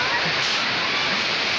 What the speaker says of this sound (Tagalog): Okay, we are now in the falls.